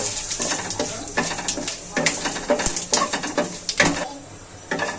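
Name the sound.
frying cumin, bay leaf and dry chilli tempering in oil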